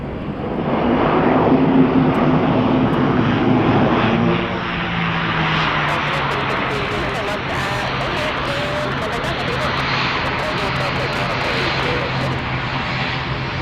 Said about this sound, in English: the 777 from Singapore getting closer and closer